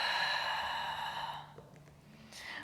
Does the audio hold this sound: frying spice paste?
no